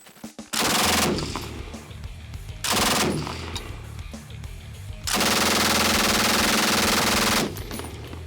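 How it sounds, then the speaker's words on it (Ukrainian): MG-3 machine gun firing outdoors in three long, loud, sustained bursts of very rapid fire, each lasting a couple of seconds, with short pauses between them. "перевіряємо, чи кулемет стоїть на запобіжнику, і ми готові до стрільби"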